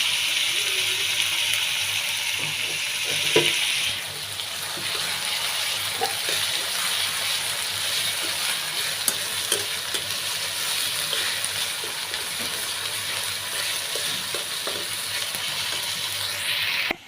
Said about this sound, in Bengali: তেলের মধ্যে পেঁয়াজ আর কিছু পরিমাণ কাঁচামরিচ কুচি করে দিছি